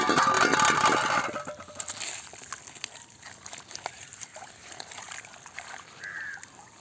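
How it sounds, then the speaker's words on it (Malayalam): Wood ash being stirred into diluted stale rice water, a short burst of sloshing and trickling liquid at the start that settles into softer wet dribbles and faint splashes. "ഇനി നമുക്കിതിലേക്ക് ചാരം കൊണ്ടുവച്ചിട്ടുണ്ട് കേട്ടോ ഇതിനെ ചേർത്ത് മിക്സ് ചെയ്തെടുക്കാം"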